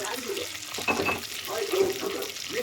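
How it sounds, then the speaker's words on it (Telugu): Mustard seeds, chana dal and urad dal crackle and sizzle in hot oil, with garlic added for a tomato pickle; a dense, continuous close frying hiss with small pops throughout. "ఆయిల్ కొంచెం వేడైన తర్వాత ఆవాలు, కొంచెం శనగపప్పు, మినపప్పు, అలాగే ఒక 2 టేబుల్ స్పూన్స్ ఆఫ్ ఎల్లిపాయలు"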